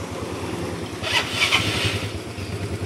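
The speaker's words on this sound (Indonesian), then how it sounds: "nah kita sekalian coba nyalain yang ini ya. Kalau yang ini Mio Smile tahun 2010" A 2010 Yamaha Mio Smile scooter is kick-started by hand, and its engine catches and sputters into a rough idle partway through. The sound is close and moderately loud, with no talk over it.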